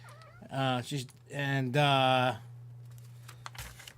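A cat in heat lets out several drawn-out meows in a row, close and clear over a low steady hum, then quiet clicks follow.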